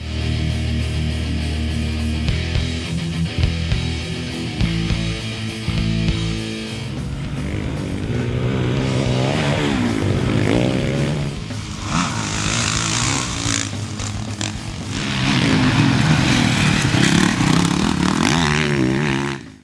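A 2013 Honda CRF450R motocross bike engine with a dual exhaust revs and rasps as it rides, rising and falling in pitch with loud bursts of acceleration and clattering.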